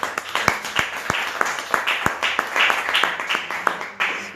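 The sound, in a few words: congregation applause in church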